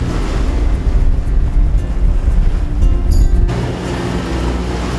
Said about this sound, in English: If it weren't for the roar of the engines, it would feel quite serene actually.